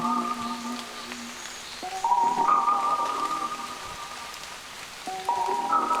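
Soft, steady rain patters beneath a slow, sustained melodic tune with held notes in a lo-fi chill track made on an Elektron Digitakt, with no voices present.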